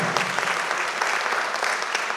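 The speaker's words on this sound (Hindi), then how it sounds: "जोरदार तालियों से इस्तेमाल कीजिए विभा शुक्ला जी का" Audience applause for Vibha Shukla at a felicitation ceremony during a poetry gathering, a steady dense wash of many hands clapping throughout, fairly loud and continuous with no talk over it.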